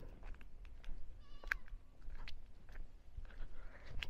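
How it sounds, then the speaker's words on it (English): Goats grazing on a mountainside in Nigeria, with a few scattered bleats and soft rustling and chewing noises at a moderate distance over a steady outdoor background, and no talk. "So these are some goats that are here grazing."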